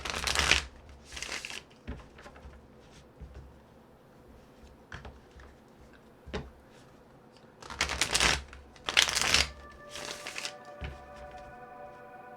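Star Spinner Tarot cards are riffled and shuffled in several quick bursts, close and crisp, with quiet pauses between and a soft chime in the background near the end.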